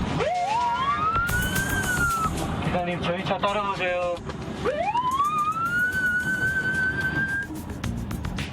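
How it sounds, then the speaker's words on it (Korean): A police car siren on an enforcement patrol wails through rising and falling sweeps while pulling over a truck in poor condition on a national road, loud and close, with someone speaking over it. "갑자기 사이렌을 울리더니 차량을 안전한 곳으로 이동해 정차시키는데요"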